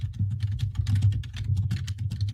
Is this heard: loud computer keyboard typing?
yes